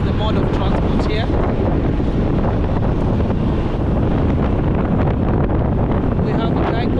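Steady, loud wind roar and buffeting on a microphone while riding pillion on a motorbike through Kakamega, continuous with no pauses, engine rumble blended into the rushing air.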